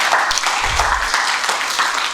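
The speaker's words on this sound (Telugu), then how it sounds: "ఒకసారి క్లాప్స్ కొట్టండি నాన్నకి." Audience applause for a child at a Bala Gokulam gathering in Warangal, a short burst of dense group clapping, loud and close, continuing steadily.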